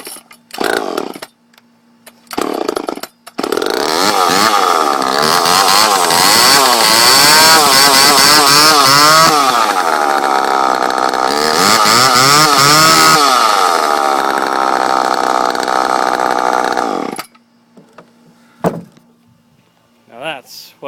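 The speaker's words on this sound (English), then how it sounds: "Now that's what I like about free chainsaws. Sometimes they still actually work." Old free chainsaw pulled a few times, then catching and running loudly up close, revving up and down for about fourteen seconds before shutting off, with brief talk afterward.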